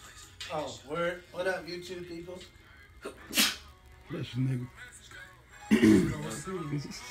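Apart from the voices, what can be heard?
sneeze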